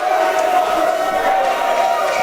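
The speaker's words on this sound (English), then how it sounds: "Crowd's happy with that call." A crowd at a KIHL hockey semi-final, Sting versus Dolphins, lets out a steady roar of cheering and shouting after a penalty call, heard at a distance under an arena hum.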